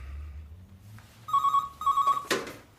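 A telephone rings in an office during a working morning, two loud electronic bursts followed by a sharp clatter, with low background hum beforehand and no talk over the ringing.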